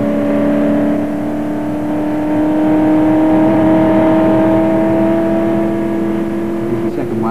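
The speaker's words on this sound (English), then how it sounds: "Accelerating, and now we're on the third fastest part of the circuit" A 1968 Le Mans race car accelerating at about 180 mph on a fast section of the circuit, a steady loud engine drone with rising pitch and a constant whirring, continuous and close throughout.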